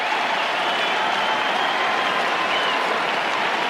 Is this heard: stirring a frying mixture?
no